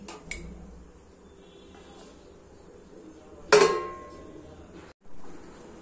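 Metal lid set onto a pot of potato wafers coming to a boil: after a quiet stretch with a small clink, one sharp ringing clank of lid on pot that fades, then a soft low hiss.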